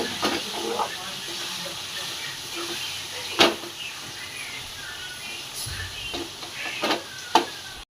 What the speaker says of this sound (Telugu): 2 స్పూన్లమైన అల్లం వెల్లుల్లి పేస్ట్ ఇప్పుడు కలుపుకున్నాను.